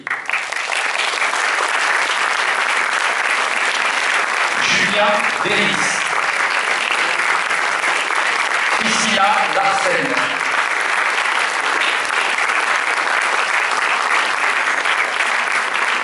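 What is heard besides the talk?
audience applause welcoming film producers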